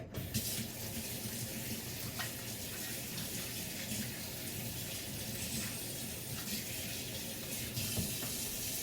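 A tap runs steadily while hands are washed, a continuous splashing stream with faint clinks, heard close and alone.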